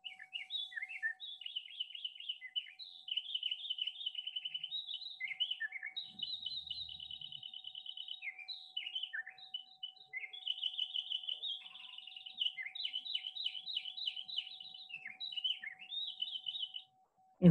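Wild birdsong: a single bird repeats quick varied whistled and trilled phrases almost continuously, clear and fairly close against a quiet background, with a faint steady hum underneath.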